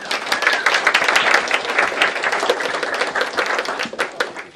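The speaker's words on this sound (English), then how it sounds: "Can you give me a round of applause for everybody?" Steady round of applause from an audience thanking participants at a minimum wage fishbowl discussion event, dense overlapping hand claps sustained at even loudness throughout.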